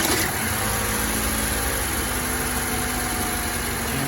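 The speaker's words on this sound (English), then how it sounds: "we turn on our car again, and we verify the second coil pack that is working" A car engine idles steadily after being restarted during an ignition coil pack check, a constant mid-low hum with faint vibration and no talk.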